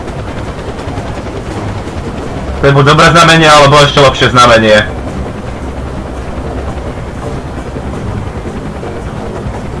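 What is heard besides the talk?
helicopter flying in video game Far Cry 4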